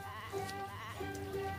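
A young goat kid gives short, quavering bleats, faint and a little distant, repeated two or three times in quick succession.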